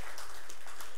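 A church congregation claps for its worship team, a brief, dense burst of applause filling the room up close.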